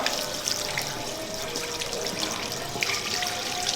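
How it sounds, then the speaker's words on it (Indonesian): Running water flows steadily from a tap during handwashing in a school setting, a continuous splashing hiss with small drips and trickles, close and even throughout with no talking. "Buka kerannya, basahi tangan kita."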